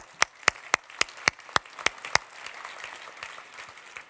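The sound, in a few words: audience applause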